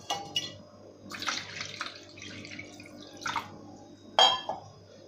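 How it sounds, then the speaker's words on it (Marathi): Water pours and drips into cooked raw mango pulp for kairi panha, in soft splashy bursts with a brief louder trickle near the end, over a quiet kitchen background. "आता याच्यात आपल्याला पाणी ओतायचं आहे"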